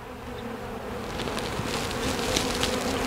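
Honey bees hum steadily at an open hive holding a yellow-marked queen, brood, eggs and larvae, a dense close swarm drone that swells slightly louder over a few seconds with no talking.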